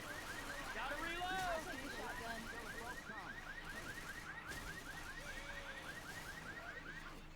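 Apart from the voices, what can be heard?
car alarm set off in video game Left 4 Dead 2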